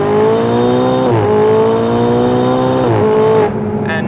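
A Ferrari 488 Spider accelerates hard from 50 km/h, its engine screaming loud and close through rising revs, with two quick gear changes briefly dipping the note before it climbs again and then cuts off.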